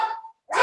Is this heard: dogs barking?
yes